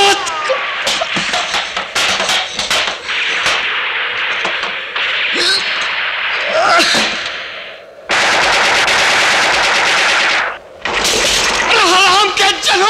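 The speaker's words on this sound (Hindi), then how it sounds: "20 के 20 एक आदमी पे गोली चलाते हो।" Rapid bursts of machine gun fire ring out in an action scene from the Hindi film Karma, sharp and loud in dense repeated volleys with short pauses between them.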